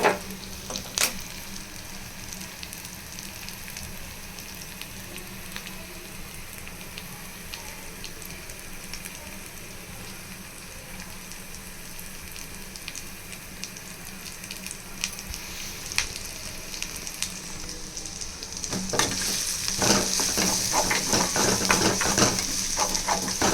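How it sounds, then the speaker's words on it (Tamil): Food sautéing in a hot pan gives a steady, close sizzle throughout, growing louder and brighter near the end with a few utensil clatters. "நல்லா ஃப்ரை ஆகிடுச்சு."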